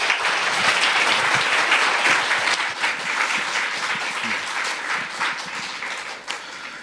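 A church congregation at a Friday prayer meeting bursts into sustained, loud applause welcoming a pastor, dense steady clapping that tapers slightly toward the end.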